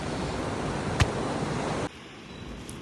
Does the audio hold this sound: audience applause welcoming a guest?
no